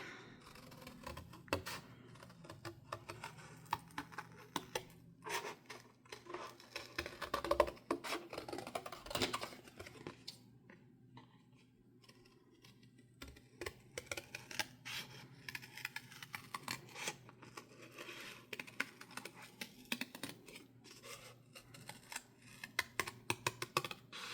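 Scissors snipping through product packaging for a junk journal, a quiet close run of irregular short cuts and rustles with small pauses between bursts, no voices.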